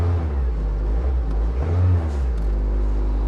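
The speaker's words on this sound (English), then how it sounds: "Give her a little rev." A well-used car at a Copart auction lot revs its engine, a loud low rumble that swells and falls twice across a few seconds, heard up close with no talk over it.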